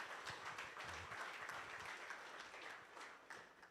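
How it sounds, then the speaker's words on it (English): At the opening ceremony of a GFDC football summit, an audience applauds a panelist, a faint, distant, sustained patter of many hands that slowly fades. "Can we have a round of applause for him?"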